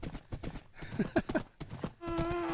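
Horse hooves clip-clopping in the Minecraft video game while riding, a quick run of light hoof clops at moderate volume, ending in a steady tonal hum.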